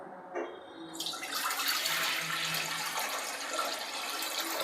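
Water pours steadily into a cooking pot set to heat for boiling toor dal, a close, continuous rushing stream after a brief quieter start.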